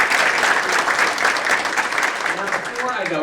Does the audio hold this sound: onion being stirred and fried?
no